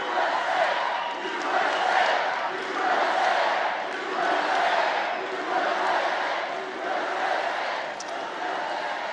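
Large crowd at a Club 47 birthday event in Florida, cheering and roaring steadily in swelling waves for several seconds, loud and close with no distinct speech.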